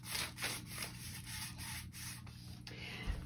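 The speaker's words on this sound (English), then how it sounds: "I'm just going to paint the whole board" A brush spreads homemade black chalk paint across a thrifted wooden board in quiet, close, rhythmic rubbing strokes, about eight sweeps with no talking.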